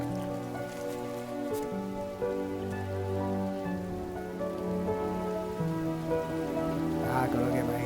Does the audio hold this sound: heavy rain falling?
yes